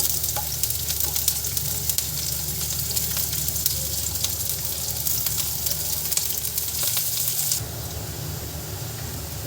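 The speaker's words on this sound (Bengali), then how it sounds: "এখন আমি রসুন, পেঁয়াজ এবং কাঁচামরিচ ভেজে নিব।" Garlic, onion and green chillies fry in a pan for a dried-fish mash, producing a loud, continuous close-up sizzle and hiss with stirring throughout. The sizzle drops slightly in level near the end.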